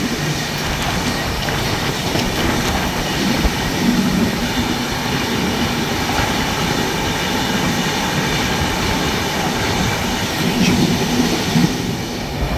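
Onboard a 12276 Humsafar Express train running at speed near Tilak Bridge in Delhi, a steady loud rumble of wheels on rails with continuous roar and faint clatter throughout.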